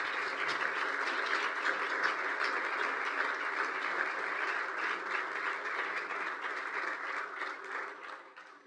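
Sustained, dense applause from a conference audience welcoming economist John Lipsky, former IMF first deputy managing director, steady and loud throughout before tapering slightly at the end, with no voices over it.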